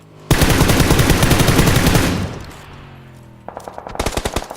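Loud rapid machine gun fire bursts for about two seconds, fades, then another quicker burst of gunfire starts up; no motorcycle engine stands out.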